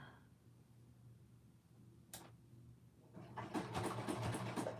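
A sewing machine stitching down a seam on a handmade skirt starts after near-silence and a single short click, then runs in a quick rhythmic whir for the last second and a half.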